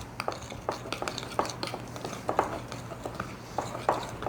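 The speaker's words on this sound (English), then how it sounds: "Now I'm going to stir this one up." A spoon stirs cornbread batter in a bowl, producing quiet, irregular clinks and scrapes against the sides at a brisk rhythm over a faint background hum.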